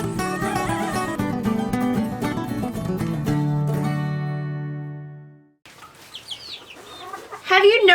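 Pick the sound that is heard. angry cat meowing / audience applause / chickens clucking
chickens clucking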